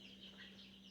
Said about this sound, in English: I love the sound of our chicks.